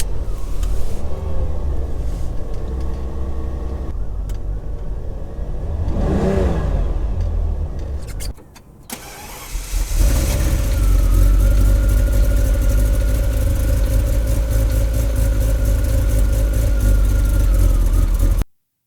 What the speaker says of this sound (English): turn her over to start her right up